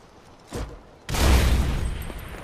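A C4 charge explodes in Far Cry 4 with a single loud, close burst that decays into a rumbling roar, after a smaller thump just before it.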